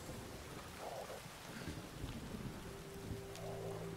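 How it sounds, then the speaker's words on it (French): Thunderstorm in the video game The Witcher 3: Wild Hunt, quiet steady rain and wind with a low distant rumble of thunder and a faint tonal hum in the background. "Un orage, manquait plus que ça."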